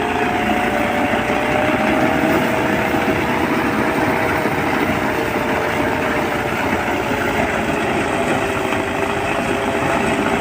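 A village rice milling machine runs with a loud, continuous mechanical drone and hum that stays steady and unbroken throughout.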